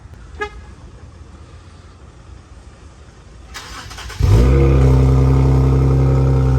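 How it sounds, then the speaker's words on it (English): A vehicle approaches and roars by loudly, its engine rising to a heavy drone, after a short horn toot and quieter background noise. "Wait for this this truck to go by."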